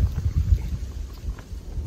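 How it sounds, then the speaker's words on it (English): Strong winter wind blowing outdoors at a wolf bait site, heard as low, gusty buffeting rumbles against the microphone, fairly close and moderately loud over a short stretch with no speech. "It's really windy today."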